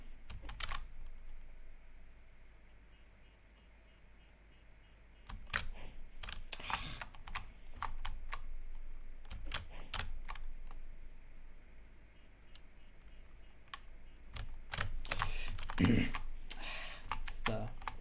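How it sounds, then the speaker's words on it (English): Computer keyboard typing during Kandria gameplay, scattered bursts of clicking keystrokes, some quick runs and isolated taps, moderately close over a quiet background. "It's my keyboard being a rude thing again."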